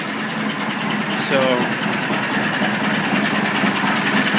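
An old English engine idles while warming up, a steady close mechanical rumble with a faint knocking vibration, running under a man's brief spoken word.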